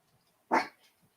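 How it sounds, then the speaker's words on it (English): A single sharp dog bark rings out nearby in an otherwise quiet room, followed by a faint softer sound. "He won't stop barking"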